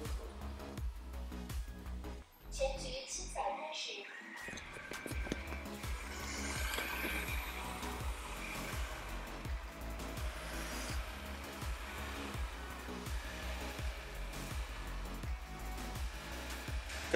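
A Xiaomi robot vacuum cleaner runs continuously during a post-repair test, with a steady whirring drone and a faint rhythmic thumping, after a brief shuffle and pause at the start.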